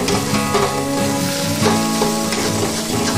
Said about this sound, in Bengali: এবার স্ম্যাশ করা আলুটা আমি এর মধ্যে দিয়ে দিচ্ছি, দিয়ে ভালো করে কষিয়ে নেব